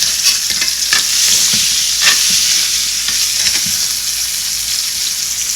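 A big ribeye steak searing in a smoking-hot cast iron pan, a loud continuous sizzle with occasional pops and scraping clicks, close up and without talk.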